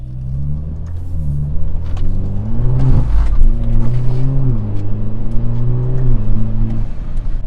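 Engine of an all-wheel-drive Alfa Romeo Giulia Q4 revving during a slide, its pitch rising and falling in repeated throttle blips over a steady rumble, loud and close throughout.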